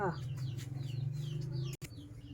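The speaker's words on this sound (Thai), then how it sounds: "ไก่" Chickens cluck and chirp close by in a rural yard, short repeated calls over a low steady hum, with a brief voice among them.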